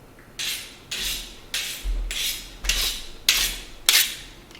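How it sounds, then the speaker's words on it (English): A knife chops vegetables on a board in seven steady strikes, each a crisp, close thunk spaced about half a second apart, with no talking. "let's start chopping some vegetables"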